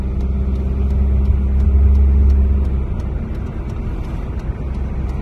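A third-generation Mitsubishi Eclipse stuck in one gear drones loudly as the engine holds high revs while driving, a steady close rumble with no talk.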